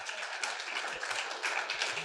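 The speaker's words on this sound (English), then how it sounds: "Thank you for this very deserved, enthusiastic applause." A conference audience at ExpensiConX in Curaçao claps enthusiastically, a steady wash of hand claps that is fairly quiet and distant, with no voices standing out.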